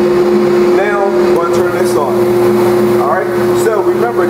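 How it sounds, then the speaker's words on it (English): A workshop jet exhaust system roars loudly and steadily with a strong, constant hum and broadband rush. Someone speaks over the noise throughout. "So I'm going to turn my jet exhaust system on. It's going to be pretty loud."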